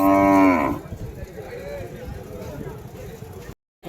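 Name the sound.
native cow mooing at a cattle market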